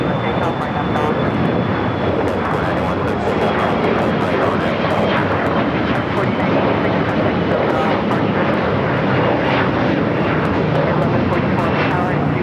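Airplane engines roar steadily at LAX airport, a loud, continuous broadband rumble with a faint high whine throughout, while an air traffic control voice talks over it.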